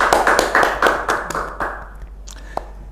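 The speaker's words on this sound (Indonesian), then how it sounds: "Tepuk tangan" A few people clap on a talk show, a short run of close, sharp handclaps with a brisk uneven rhythm that fades out after about two seconds, followed by a single stray clap.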